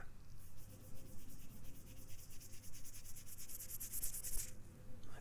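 Fingers rubbing together close to the ears in an ASMR cranial nerve hearing test, a soft, steady dry rustling that swells slightly louder as it nears, with no talking.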